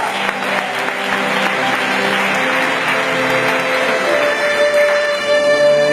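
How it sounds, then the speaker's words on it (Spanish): Loud, sustained applause fills a church service, with dense clapping from the congregation over a bed of held organ or keyboard tones that continues throughout. "dale un fuerte aplauso al Señor"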